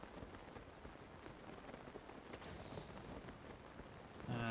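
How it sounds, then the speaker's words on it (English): Rain in the video game Zelda: Tears of the Kingdom falls as a steady, faint hiss with patters throughout, and a brief game sound rises near the end. "freezing to death in the rain."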